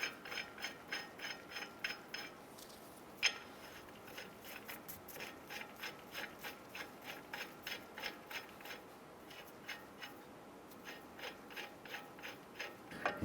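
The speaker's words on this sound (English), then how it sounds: "we're going to go ahead and thread on a couple of our wheel nuts" Wheel nuts are threaded by hand onto the hub of a 2011-2018 Ram 1500 during a wheel bearing and hub replacement, producing a quiet, regular series of metallic clicks and ratcheting ticks, close and soft, with no talking.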